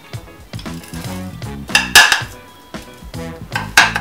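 A metal spoon scoops coffee into a bowl for dalgona coffee, making a run of close, sharp clinks and scrapes against the dish in an uneven rhythm, with no one speaking.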